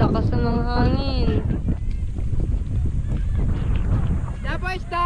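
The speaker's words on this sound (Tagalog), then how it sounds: "lakas ng mga hangin" Strong wind buffets loudly and continuously, with a fish vendor shouting a sung call at the start and again at the end.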